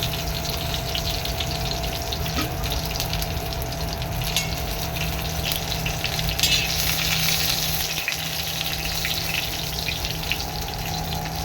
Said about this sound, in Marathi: तेलामध्ये थोडं थोडं फ्राय करायचे